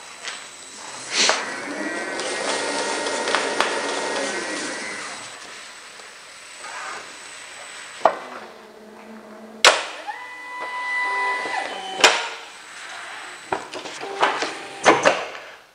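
A NEPATA UA770 label rewinding and trimming machine runs with a whirring, rising and falling motor tone, broken by sharp clicks and clunks of its mechanism, heard close with no talk.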